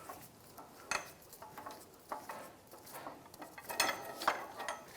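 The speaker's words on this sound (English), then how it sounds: "Now I can lower the screw jack." Screw jack being lowered under a 2015-2020 Cadillac Escalade during rear shock replacement, giving a run of quiet metallic clicks and ratcheting scrapes in an uneven rhythm, close by with no talking.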